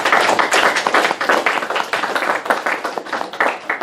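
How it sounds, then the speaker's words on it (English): A student audience gives a round of applause after a class presentation in a university classroom, close, dense clapping that runs steadily throughout without voices. "just if we could give a round of applause"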